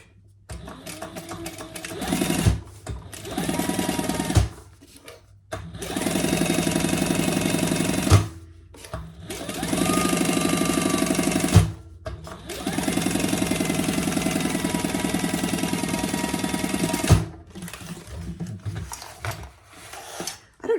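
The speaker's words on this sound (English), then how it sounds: "I'm going to sew the top and the bottom and leave the side open." Sewing machine stitching waterproof cotton for a jumbo beach tote bag, a 1/4 inch seam, running in several loud bursts of steady mechanical whirring separated by short pauses.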